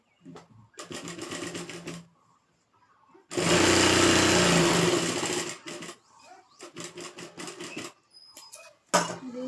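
A sewing machine top-stitches a salwar in rapid bursts, one long run in the middle and several shorter runs around it, close and clear.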